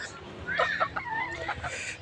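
Desi country chickens on a small farm cluck softly in a short, quiet burst of a few calls, heard fairly close.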